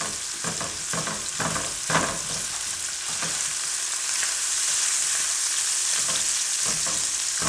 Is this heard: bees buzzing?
no